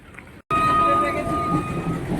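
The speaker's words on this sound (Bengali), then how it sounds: "এদিকে প্ল্যাটফর্মে ট্রেন ঢুকছে" A train pulls into a station platform after a brief silent cut, bringing a loud, sustained rumble with steady tonal whine or horn-like hum throughout.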